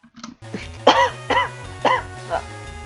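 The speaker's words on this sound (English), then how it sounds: "not surprising that I'm having to cough a little bit every now and then" A person coughs several times in a row, a short burst of harsh, fairly loud coughs spaced about half a second apart over a low steady background tone.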